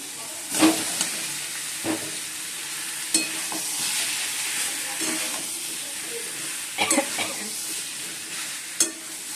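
Potatoes tossed into cooked-down spice masala sizzle and hiss in a hot pan, with a steady frying crackle and a few sharp stirring clatters scattered through, close and moderately loud.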